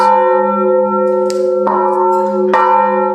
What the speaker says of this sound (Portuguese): O toque dos sinos está ligado às próprias ações do homem na cidade